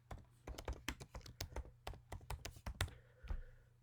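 Fingers type steadily on a Mac keyboard at close range, producing a rapid run of crisp key taps with a few louder strikes and no voice over them.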